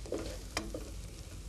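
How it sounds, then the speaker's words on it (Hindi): Chopped onions brown in a hot pan, a low continuous sizzle with a quick scrape of a spoon stirring through them midway, close and fairly quiet. "लेकिन अभी तो इस प्याज को ब्राउन करते हैं हम।"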